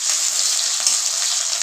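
Spices and onions sizzling in a pan while a spatula stirs them, a steady close hiss with soft scraping through it.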